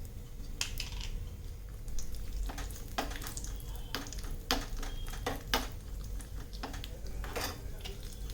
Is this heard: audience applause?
no